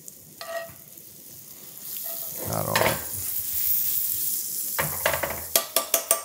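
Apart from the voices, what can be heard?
chopped onion frying in browned butter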